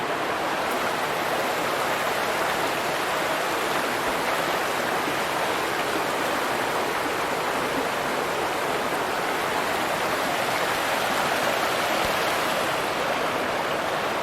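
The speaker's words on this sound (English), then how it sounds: "Love the sound of the water." A stream rushes over rocks on a hiking trail, a steady, dense wash of flowing water holding even and fairly loud throughout with no other sounds.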